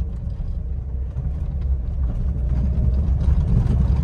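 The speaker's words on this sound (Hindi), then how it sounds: "ये देखो नीचे गड़ गड़ की आवाज आ रही है। बैलेंस राड की बुश की आवाज वगैरह लग रही है" A car's suspension, with worn balance rod bushes, gives a low, continuous rumble and rattle from underneath the vehicle while it is driven, rising slightly in loudness toward the end.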